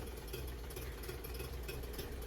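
A Mercury 25hp two-stroke outboard idles steadily with its fuel line disconnected, burning off the last of its fuel: a low, even, slightly rough drone that stays fairly faint and unchanged throughout.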